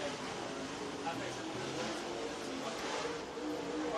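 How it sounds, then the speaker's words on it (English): Race cars roll around Lake Cumberland Speedway in Burnside, Kentucky, a steady broadband engine roar filling the track while an announcer talks over it. "As your next two drivers rolling around the Speedway."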